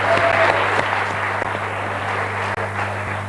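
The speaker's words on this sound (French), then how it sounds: "À travers tous ces applaudissements" A studio audience on a French TV quiz show gives dense, steady applause that runs loud and continuous throughout, with a constant low hum underneath.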